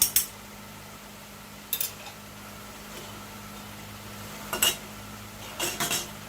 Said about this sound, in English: Just take a butter knife, stir it up some, get it all incorporated.